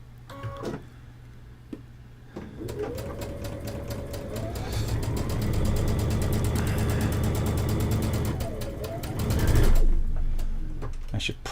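A sewing machine stitching flying geese quilt pieces runs in a long continuous whirring burst, speeding up and slowing near the end, with a short mechanical start and stop around it.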